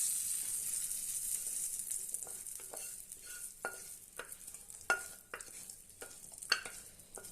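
Hot oil tempering sizzles steadily with a bright hiss as it is stirred into amla chutney, a spoon scraping in short, repeated knocks, close up and without talk.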